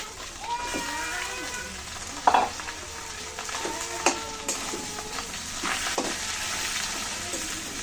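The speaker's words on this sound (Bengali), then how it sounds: "মাছ দিয়েছি যেহেতু কড়াইতে একটু লেগে যাচ্ছে, এখন শাকগুলো আমি দিয়ে দিচ্ছি" Kalai greens fry with fish in a wok, making a steady sizzle with stirring clatters and a few sharp knocks, while faint voice-like tones drift in the background.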